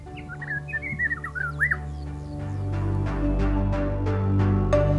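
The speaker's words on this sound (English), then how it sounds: "In this habitat, you can appreciate the striking songs of different birds." Several birds sing in rocky habitat at Tundavala, Angola: clear whistled phrases and chirps at first, then a series of sharp repeated notes over a low background rumble.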